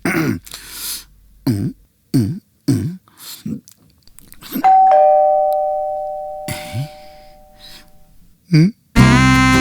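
A doorbell rings once with a sustained two-tone chime, set among short thumps and indistinct movement noises in a quiet room.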